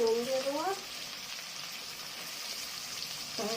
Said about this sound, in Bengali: তবে পেঁয়াজটা ভাজা হবে ভালো